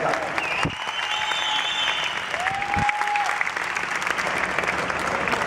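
Audience applause at a Comic Con Portugal 2018 film panel, a steady wash of clapping throughout with a voice speaking over it.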